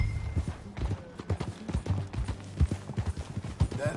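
Horse hooves clip-clop at a steady walking rhythm in the Red Dead Redemption 2 video game, close and fairly soft, with low game ambience and faint voices underneath.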